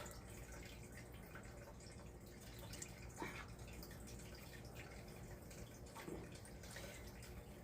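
Infused oil drips and trickles through cheesecloth into a jar, a faint, close, uneven patter of small liquid drops over a soft continuous background.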